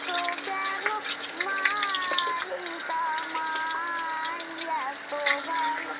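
Water is poured and splashed over a young cow during a bath, a steady gushing wash with voices talking over it and brief higher calls woven through.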